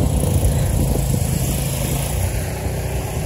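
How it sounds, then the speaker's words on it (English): A snowblower clears snow on a snowy Toronto day, its engine droning steadily and continuously at close range, with a low rumbling mechanical hum and no talking. "That's a snowblower"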